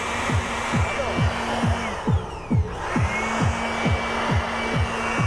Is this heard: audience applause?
no